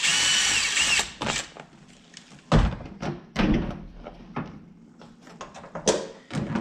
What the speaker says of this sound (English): gonna drill this hole a little bit bigger